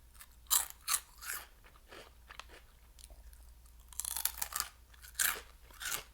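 Close, crisp crunching of snacks being chewed, a series of sharp bites and grinding chews in irregular bursts with quiet pauses between, no talking.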